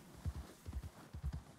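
Hooves of a tamed white horse being ridden in Red Dead Redemption 2, a steady soft clip-clop rhythm of muffled hoofbeats at walking pace, fairly quiet and close.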